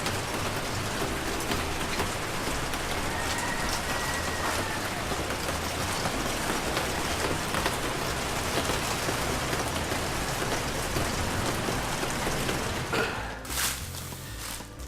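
Heavy rain pours steadily ahead of a typhoon in Saigon, a dense, constant hiss, with occasional heavier splashes near the end.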